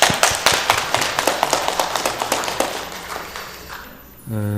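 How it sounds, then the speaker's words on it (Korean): A church congregation at a Korean Sunday service claps together in a quick, even rhythm that slowly fades. A sustained musical tone enters just as the clapping dies away. "우리 박수로 한번 환영하겠습니다."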